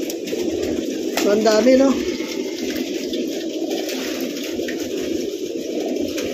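Crested pure racing pigeons feed and peck at a loft, and a few soft coos rise briefly from the flock over a steady hum of background noise. Someone speaks over the birds early on.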